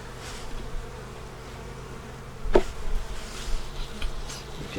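Honey bees buzz steadily nearby, a soft continuous hum with individual insects droning louder as they pass close.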